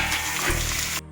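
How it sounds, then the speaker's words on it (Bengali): Chopped vegetables frying in a pan for a Bengali chorchori, a steady broadband sizzle that cuts off abruptly near the end of the short clip. "সবজিগুলো প্রথমে ভেজে নেব একটু অল্প করে"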